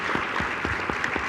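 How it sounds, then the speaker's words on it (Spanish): An audience at a human rights event applauds after a speech, a brief burst of dense, evenly sustained clapping. "Un aplauso."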